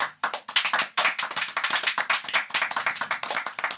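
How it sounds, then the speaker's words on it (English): A small group clapping during a podcast recording, close and dense, with sharp individual hand claps in a quick uneven rhythm across the whole stretch. "Let's give a round of applause for that shit."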